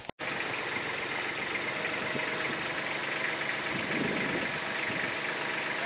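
A tractor engine runs close by at a steady idle, a continuous low rumble with a faint repeating beep in the background.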